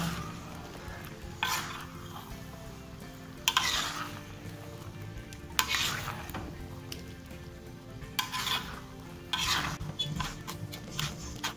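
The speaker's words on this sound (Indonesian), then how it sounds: "sambil kita aduk-aduk ya, kita aduk sampai merata." A utensil stirs and scrapes petai with spices in a pan in repeated bursts over a soft, steady sizzle, fairly quiet and close, with no talking.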